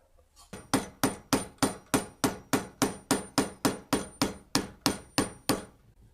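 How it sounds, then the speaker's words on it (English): A hammer strikes a pin into a handle in a steady series of about sixteen sharp, evenly spaced blows, each ringing briefly before the next. "So this one we've been hammering already quite a bit."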